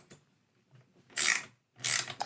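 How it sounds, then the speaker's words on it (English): A 5mm Allen wrench loosening the brake cable pinch bolt on a kids' bike V-brake, a few short metallic ratcheting and scraping turns separated by quiet pauses, close and fairly faint. "Loosen the cable pinch bolt using a 5mm Allen wrench."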